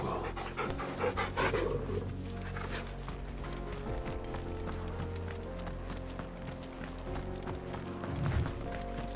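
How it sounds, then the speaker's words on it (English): Torgal, a dog in the video game Final Fantasy XVI, pants in quick rhythmic breaths at close range over a low game ambience, with hoof-like clopping mixed in. "Torgal. Our good little elemental pupper."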